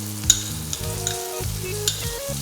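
Garlic and pesto frying in a pan, with a steady close sizzle and a few sharp clinks of a utensil against the pan.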